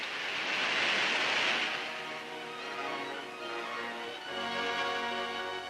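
Water roars over the spillways of a Columbia River dam in 1942. The broad, steady rush swells early on, then holds, with sustained musical tones running beneath it.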